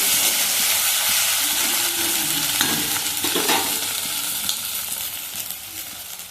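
Ginger and garlic hitting a pan of softened tomatoes for a fish dish, a loud, dense hiss of frying that settles slightly over the seconds, with a few stirring scrapes and pops.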